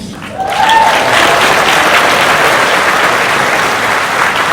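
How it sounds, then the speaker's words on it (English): Sustained audience applause at a public talk on the future of Los Angeles, dense and loud clapping that swells after a brief start and continues steadily throughout. "Please join me in a round of applause for Jessica Alba"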